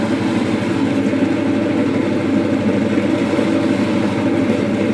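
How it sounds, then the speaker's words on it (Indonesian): An oil spinner machine whirls freshly fried salak (snake fruit) chips to drain the oil, giving a loud, steady motor hum with a low throbbing drone that never lets up, with no talking. "kita spinner selama kurang lebih 5-10 menit agar minyaknya tiris"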